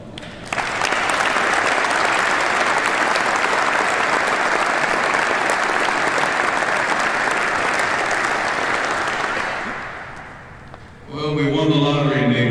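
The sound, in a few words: audience round of applause at command handover ceremony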